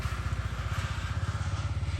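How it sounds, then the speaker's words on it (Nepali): A motorcycle engine thrums nearby with a steady, rapid low pulsing, loud and constant throughout, no voices over it. "क्षितिज सर पनि यहाँ बाइकमा सर र जाँदै हुनुहुन्छ"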